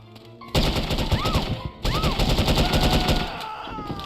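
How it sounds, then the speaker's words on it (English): Rapid automatic gunfire in the PC shooter No One Lives Forever, loud sustained bursts with short gaps, plus bright pinging ricochet or pickup tones between volleys. "Stop shooting me."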